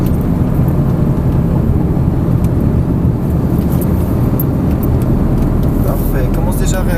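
A Lamborghini Gallardo or Ford Focus RS 305 hp accelerating on a race track, heard as a loud, steady, close engine roar filling the whole stretch, with a faint voice under the noise.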